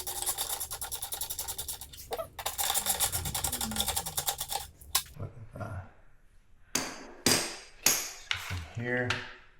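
A Torx 27 driver works screws loose on a license plate mount: a scraping, ratcheting stretch followed by several sharp metallic clanks and taps, close and fairly loud.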